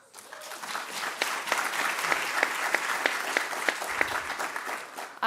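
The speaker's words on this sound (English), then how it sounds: "One more round of applause for Soledad and Bob Hurst, the underwriters of the Hurst Series" An audience at an Aspen community talk applauds the series underwriters. The clapping is moderately quiet and swells in quickly, then holds steady with a few crisp individual claps standing out near the listener.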